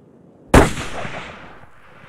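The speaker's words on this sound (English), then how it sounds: "I brought a Sako rifle, and I was shooting the 370" A Sako rifle fires once during a red lechwe and tsessebe hunt in Botswana, a loud, close crack that rolls off into a long outdoor echo and then fades.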